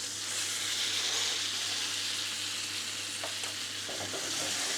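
Cod fillet sizzling steadily in a frying pan, a continuous close crackle with a few soft knocks near the end as the fish is turned.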